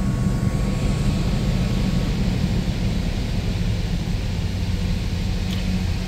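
A 1980 Pontiac Grand Prix LJ survivor with a 301 V8 and 14,072 miles runs steadily after a cold start, a continuous low engine drone with broadband roar, close and loud, with no voices.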